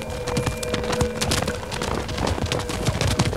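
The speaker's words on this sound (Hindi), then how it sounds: "घोड़ा कहाँ ले जा रही हो?" Horse hooves clip-clopping on hard ground in a historical TV drama, a busy, continuous run of close, loud hoofbeats with a faint tonal hum underneath and no talk.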